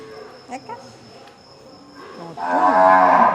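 Desi Gir cows and calves on a farm moo loudly and close by, one long, strong, rising moo filling the last second after quieter lowing and faint background sounds.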